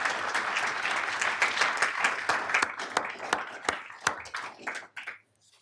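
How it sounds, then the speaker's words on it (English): A council meeting audience gives a round of applause, a dense spell of clapping that thins into a few scattered individual claps before stopping. "Please give Brandon Russell another round of applause."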